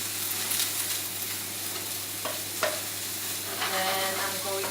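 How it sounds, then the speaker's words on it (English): Spring roll filling tossed and stirred in a hot pan, a constant close sizzle with intermittent scrapes and clinks of the utensil against the metal. "I'm going to put all these things in here and give a good mix"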